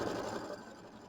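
Embroidery machine stitching a tack-down line for in-the-hoop quilting on a Kimberbell mini quilt, a steady close mechanical whir that softens toward the end, with no talk.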